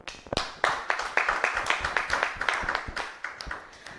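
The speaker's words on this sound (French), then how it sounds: "Applaudissez pour nous-mêmes" A small group of housemates claps for themselves indoors, a handful of sharp distinct hand claps in an uneven rhythm, close and fairly quiet.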